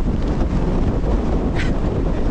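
Very strong typhoon wind roars steadily into the microphone during a super typhoon, a dense continuous buffeting rush with a brief higher gust swell midway, loud and unbroken with no talking.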